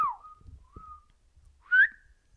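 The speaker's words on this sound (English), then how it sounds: "very high pitched whistle. I don't know how to make it low." A person whistles a few short, very high-pitched notes, a sliding tone, a brief steady note, then a louder upward swoop, in a quiet room.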